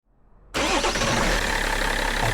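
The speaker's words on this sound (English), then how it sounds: "I will start the car now." A BMW E60 3.0d diesel engine cranks and catches abruptly after a quiet moment, then settles into a loud, steady, close-up diesel idle with no talking.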